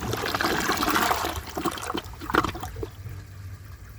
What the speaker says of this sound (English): here's another flush